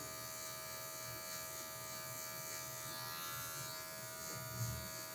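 A steady electric hair clipper hum buzzes continuously during a mid fade haircut, close and fairly quiet, with no talking.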